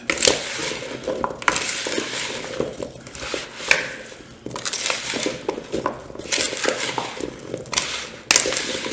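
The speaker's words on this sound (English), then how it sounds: "Add a little bit of olive oil. And we're going to start mixing again." Carrots and rutabaga are tossed with olive oil in a bowl, giving close, irregular crunchy rustling and scraping bursts that come and go over several seconds.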